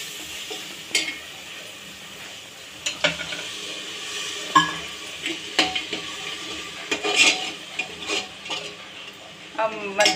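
Ginger-garlic masala with coriander, chili, turmeric and salt frying in a pan, a soft continuous sizzle broken by repeated scraping stirs of a spoon against the metal, close up with no talking.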